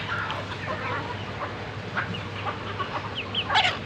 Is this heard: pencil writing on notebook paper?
no